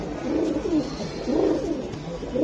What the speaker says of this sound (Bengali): ডাকটা কেমনে ডাকে দেখছেন ভাই, মন শান্তি করা ডাক দেয়